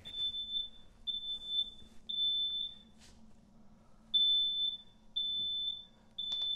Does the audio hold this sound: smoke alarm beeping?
yes